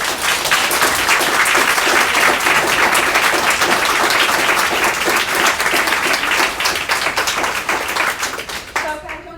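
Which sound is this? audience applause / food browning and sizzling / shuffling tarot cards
audience applause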